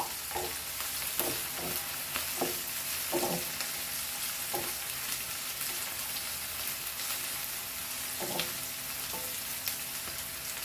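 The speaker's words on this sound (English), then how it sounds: "High flame and fry all this." Beef fried rice fries over a high flame, giving a steady close sizzle with occasional scrapes of a stirring utensil in the pan and no talking.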